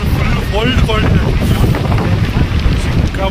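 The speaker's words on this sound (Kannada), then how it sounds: "ಕೋಲ್ಡ್ ಹೆಂಗಿದೆ ಅಂತಂದರೆ ಎಷ್ಟು ಗಾಳಿ ಬೀಸ್ತಾ ಇದೆ, ಫುಲ್ ಕೋಲ್ಡ್ ಇದೆ" Strong cold wind on Himavad Gopalaswamy hill buffets the microphone in heavy, continuous low rumbling gusts, with brief voices and crowd sounds faintly mixed underneath.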